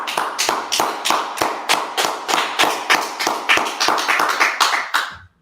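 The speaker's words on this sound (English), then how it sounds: "clap it up" A group clapping hands in a steady, even rhythm, about a dozen loud, close claps that stop abruptly at the end.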